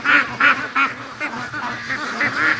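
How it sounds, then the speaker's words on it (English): Free-range ducks quack loudly and repeatedly nearby as they head down to a lake, a rhythmic series of honking calls in quick succession. "We'll go down with the ducks to the lake here."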